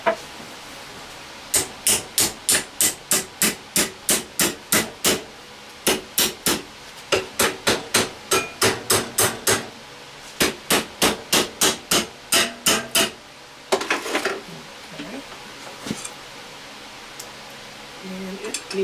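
A hammer strikes a metal bracket being bent to 90 degrees in repeated fast bursts of sharp, ringing, close blows, about eight to ten hits per burst with short pauses, then a scrape and rustle at the end.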